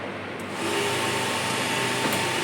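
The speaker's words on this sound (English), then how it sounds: "Now the motor starts rotating." A separately excited DC shunt machine is brought up to speed with a 3-point starter and reaches about 1534 RPM; its steady electric whir swells after a quiet start and then holds as a continuous close hum.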